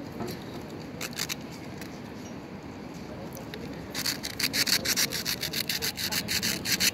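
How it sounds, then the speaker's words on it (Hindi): Zero-grade sandpaper rubbing the breaker points of a Suzuki Bolan or Mehran ignition: soft scraping at first, then rapid rhythmic back-and-forth strokes growing louder and close up. "ज़ीरो का रेगमाल आपने लेना है, ये देखें इस जगह से साफ़ करना है आपने"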